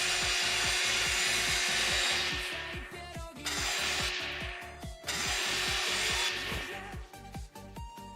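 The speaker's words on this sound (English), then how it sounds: "I've still got more rust to remove." Rhythmic abrasive scraping of rust being removed from a car body in a repair video game, loud and continuous strokes with repeated sweeping passes and brief pauses, no voices.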